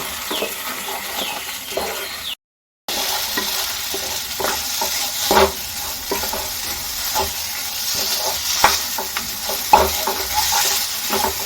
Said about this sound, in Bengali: দিয়ে নিয়ে নাড়াচাড়া করে কিন্তু জলটা একদম শুকিয়ে নেব